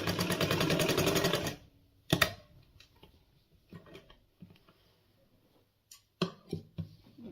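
Sewing machine stitching a palazzo seam, a rapid loud whirring burst for about a second and a half, then quiet handling clicks and a few short stitch bursts.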